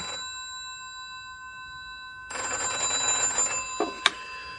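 A telephone in a London bachelor apartment rings in an audio mystery drama, giving a steady electric bell tone that sounds alone, then continues under rustling and a sharp click as the receiver is lifted.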